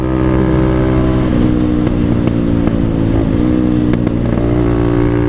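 A dirt bike ridden along a newly built road through forest gives a steady, loud engine drone with a few small throttle changes and brief revs, close up and continuous throughout.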